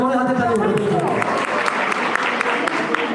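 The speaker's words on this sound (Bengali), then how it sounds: "একবার জোরে হাতে তালি পাবো।" An audience at a Medinipur creators' event breaks into applause, a dense patter of clapping that starts under a speaking voice and carries on with a few sharper claps standing out.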